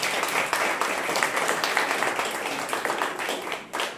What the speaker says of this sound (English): Please, a round of applause for Phoebe Hurst.